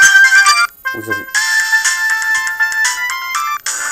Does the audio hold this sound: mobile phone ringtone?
yes